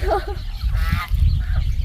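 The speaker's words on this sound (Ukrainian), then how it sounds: "Так, вже підключилася коричнева качка." Loud, harsh honking calls of ducks, including a brown duck, repeated in quick bursts close by, over a low rumbling background.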